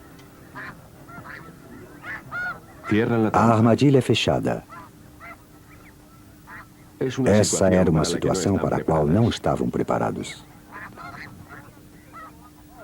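Several geese honk in two loud bursts, each a flurry of overlapping calls. Between the bursts someone narrates in Portuguese at a steady pace.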